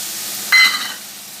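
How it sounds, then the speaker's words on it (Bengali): Water poured into a pan of fried spice masala in oil for a Bengali potol and potato curry, with a sudden loud hiss and sizzle that bursts up and then fades over about half a second. "এবার আমি ওই বাটি ধুয়ে একটু জল দিয়ে দিচ্ছি।"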